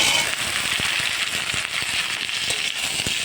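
Okra and potato pieces hit hot oil with tempered spices, giving a steady, bright frying sizzle peppered with sharp crackles and pops throughout, close and fairly loud.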